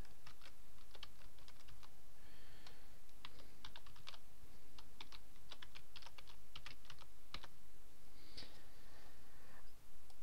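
Someone types an email address on a computer keyboard, and the key taps come quick and crisp in an irregular run that carries on through the whole passage, close up and alone.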